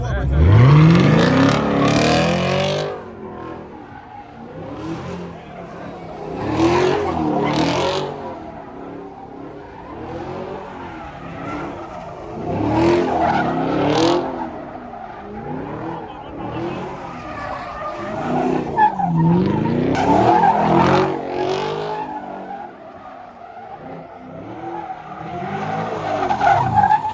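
A Chevrolet SS revs hard and skids in repeated bursts at a street pit gathering, engine roaring and tires screeching in waves about every five seconds, loud and close, with people talking and shouting over it.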